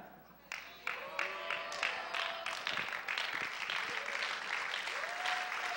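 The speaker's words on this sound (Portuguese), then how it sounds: "Eu não vou pedir para você aplaudir mais." A church congregation applauds during an evening family service, a full room of clapping that swells and continues steadily while a voice speaks faintly underneath.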